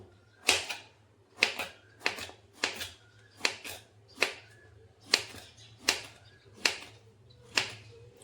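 Homemade gummies are sliced into small pieces, giving about ten crisp, evenly spaced knife taps on a board, each a sharp close click with a brief decay, over a faint low hum.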